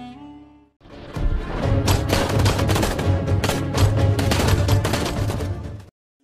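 Sustained rapid gunfire from weapons training in the film Torbaaz, a loud, dense automatic burst lasting several seconds after a brief quiet lead-in, then cutting off abruptly.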